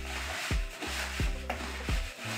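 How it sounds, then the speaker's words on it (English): Grits pack bait for carp and catfish, made of quick and instant grits, is stirred in a bucket, giving a steady close gritty scraping broken by regular dull thumps about every two-thirds of a second. "you're gonna dump your 9 ounces into your bucket as well. And then we're gonna mix it up"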